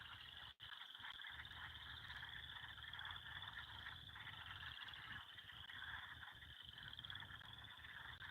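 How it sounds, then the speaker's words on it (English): Frogs at a pond at night croak in a dense, continuous chorus that carries on steadily and alone. A single sharp click sounds near the start. "Do a live frog concert?"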